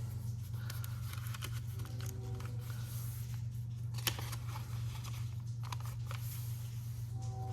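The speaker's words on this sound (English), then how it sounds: "I will actually fold it over." Paper invoice being folded over a trading card, with soft crinkling and creasing rustles and a few crisp taps close by against a steady low hum, no talking.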